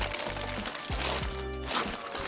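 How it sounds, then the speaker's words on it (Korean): Plastic wrapping on an Aladin lucky bag crinkles and crackles continuously and close up while being handled and torn open. "일단 비닐 소리가 시끄러우니까 비닐도 한번 다 뜯어서 리뷰를 해보도록 하겠습니다"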